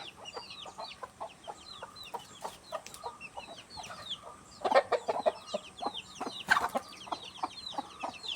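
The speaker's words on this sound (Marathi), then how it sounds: "लगेच कोंबडे आवाज करतात" Chickens cluck in short repeated bursts alongside chirping birds outdoors, with a couple of louder squawks partway through.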